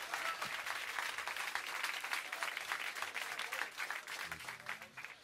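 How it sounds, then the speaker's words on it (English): Crowd applause in a jazz club at a band reunion show, a continuous wash of many hands clapping throughout, fairly loud and alone. "But you got to clap."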